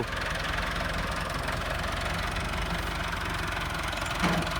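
A tractor engine idles slowly on a farm road, a steady low rumbling drone with a faint knocking pulse, close and constant throughout with no talk.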